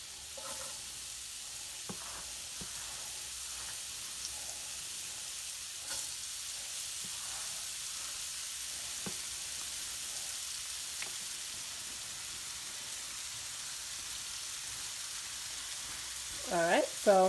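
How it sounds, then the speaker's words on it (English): Shredded potatoes frying in oil in a pan for Waffle House-style hashbrowns, a steady, soft crackling sizzle throughout with scattered pops and a few utensil clinks near the end. "now I'm going to add the potatoes"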